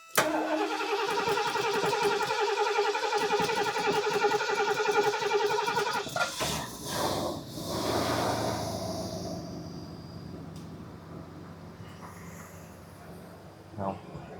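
A cold-blooded Lincoln engine without a choke cranks loudly with a fast, steady starter whir for several seconds, catches, then settles into a rough, lower idle that fades under brief voices.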